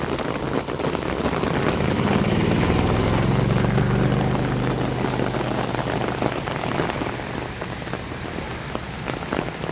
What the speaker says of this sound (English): Remember when it wasn't raining this hard?